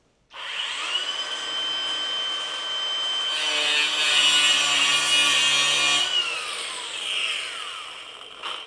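A flap disc grinds against a brake caliper from a Gen 2 CTS-V, a loud continuous abrasive whine with a steady high pitch that swells in the middle and tapers off at the end, with no voices.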